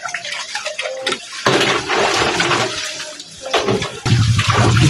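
Washed dishes and a casserole are rinsed under running water in a kitchen sink, with bursts of splashing and gushing that swell and drop as items move through the stream, close and fairly loud.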